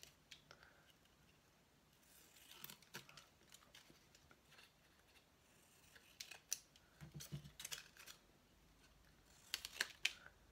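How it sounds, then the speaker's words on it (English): Scissors cut around the edge of cardboard while making a recycled paper collage, giving faint, close, irregular snips and crisp clicks in short bursts against a quiet room. "cut around the edge of that cardboard"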